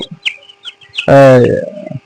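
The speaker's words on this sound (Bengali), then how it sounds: "এই যে মুরগিগুলা দেখছেন খুবই চঞ্চল" Short chicken clucks and chirps are followed by one loud, drawn-out squawk from a bird close by.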